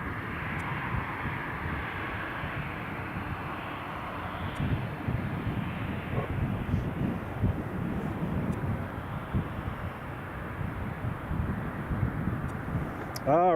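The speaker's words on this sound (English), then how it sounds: "Emirates is pushing back" Emirates airliner pushing back at Newcastle International Airport in winter: a faint, distant low engine rumble and hum, fairly steady with slight wind buffeting, with a voice talking over it.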